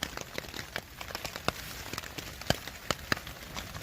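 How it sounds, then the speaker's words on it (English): Hail pelting a tent from outside during a thunderstorm: irregular sharp ticks and pops scattered over a steady patter, some hits close and loud, no talking. "But I'm dry and I'm warm, even though it is hailing outside."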